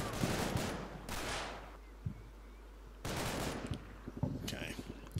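Gunfire from the WWII tactics video game Combat Mission: Battle for Normandy, with bursts of machine-gun fire and rattling shots in two loud clusters separated by quieter gaps, fairly close and dominant, with a voice briefly talking over it.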